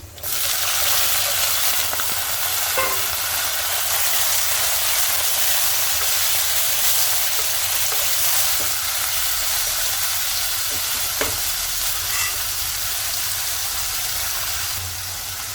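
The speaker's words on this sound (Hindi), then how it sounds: "अब इसमें डालेंगे कटे हुए आलू" Cut potatoes fry in a pan with green chillies and garlic that were sautéed first, for a dry methi aloo dish. A steady, fairly loud hissing sizzle runs continuously with no voices.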